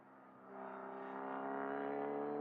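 A prototype race car from the European Endurance Prototype Cup runs at the Mugello circuit during qualifying, its engine a steady, loud droning whine that grows slightly louder as it passes close by, with no voices.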